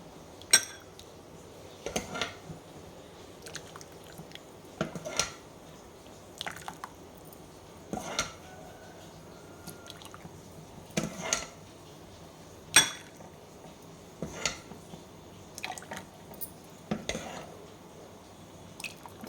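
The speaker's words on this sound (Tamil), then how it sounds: "இப்போ இந்த பவுலுக்கு நம்ம கொஞ்சம் கொஞ்சமாக சர்வ் பண்ணிக்கலாம்" Broccoli soup is ladled from a pot into a bowl in a home kitchen, with about a dozen soft clinks and wet splashes spaced irregularly every second or two over a quiet background.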